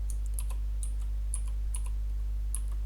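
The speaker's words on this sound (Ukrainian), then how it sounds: "Я ввожу своє ім'я та нажимаю клавішу Enter на клавіатурі." Keys tapped on a computer keyboard in a series of light, irregular clicks as a name is typed, ending with a press of Enter, heard alone over a steady low hum.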